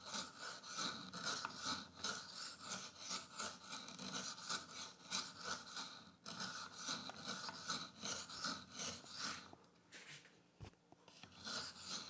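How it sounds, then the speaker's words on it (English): A fixed-blade carry knife drawn across a sharpening stone, rhythmic gritty rasping strokes repeating close up for several seconds, briefly pausing near the end, no voices. "let's see if we can get a burr up with this"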